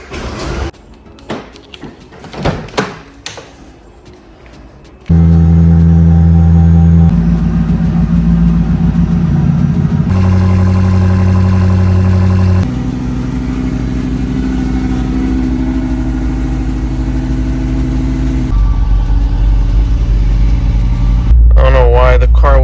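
A Lamborghini engine revs up and down repeatedly, loud and close, with the pitch rising and falling in sustained waves, after a stretch of talk at the start.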